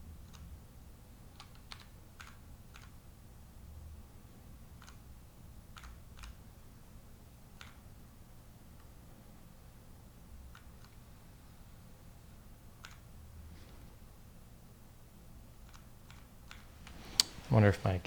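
A hacker-style computer keyboard during a live stream, with sparse, quiet keystrokes tapping at irregular intervals over low room noise and a louder clatter at the end.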